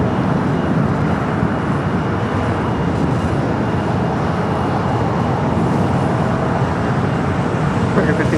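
Air Premia Boeing Dreamliner turning toward the gates at LAX's Tom Bradley terminal, a steady broadband engine rumble and hiss mixed with traffic-like ground noise, constant and moderately loud.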